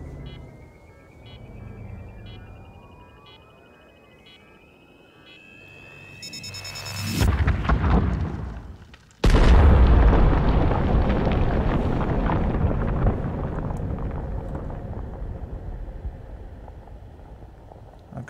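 Asteroid detonation explosion sound effect: a rising tonal build with descending sweeps, a short burst, a near-silent gap, then a massive loud blast that rumbles and slowly decays into long aftermath noise.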